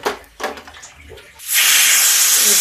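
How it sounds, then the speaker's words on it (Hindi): Pressure cooker on a gas stove cooking soaked moong and masoor dal porridge, letting out a loud sustained steam hiss up close after a few brief clattering sounds. "प्रेशर लगा देते हैं, 1 सीटी आने पे इसको बंद कर देते हैं।"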